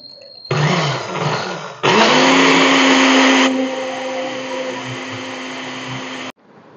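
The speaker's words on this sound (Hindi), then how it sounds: "अब इसको दोबारा ग्राइंडर को चला लेते हैं।" An electric grinder whirring loudly and continuously while oil is poured into it for a sandwich sauce, with the motor pitch shifting partway through before it cuts off.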